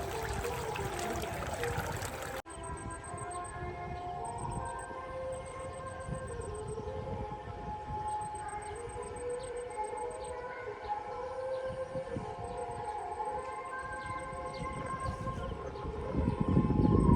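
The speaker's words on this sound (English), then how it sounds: "Enjoy the music from the temple in the background." Temple songs drift across Kerala paddy fields in the evening, a steady distant musical drone with a faint high tone over continuous ambient background; a louder burst of sound opens the first couple of seconds.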